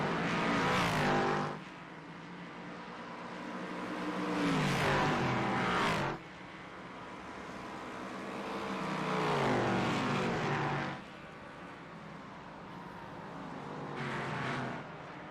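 Race cars in a Pro Kart Concepts Road Challenge Series race at Road Atlanta, among them an Aston Martin, roar past one after another, each engine swelling loud and then fading away, with no talk over them.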